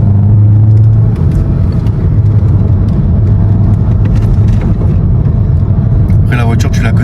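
A Volkswagen Golf 7 GTI Performance with 240 horsepower drives along, its engine a loud, steady low rumble close by throughout, with road noise and a brief rise near the end.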